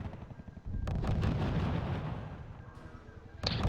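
Artillery guns firing in the World War II strategy game RUSE, a loud sustained barrage of booming blasts rumbling for several seconds, with a sharp new volley at the end.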